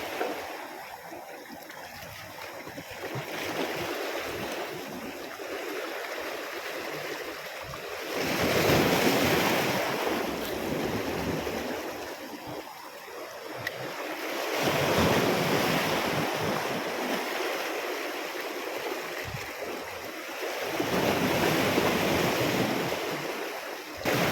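Strong wind rushes steadily at a seaside fishing spot in Bucana, Ternate, Cavite, while surf swells and recedes in slow waves, loud and continuous with no speech.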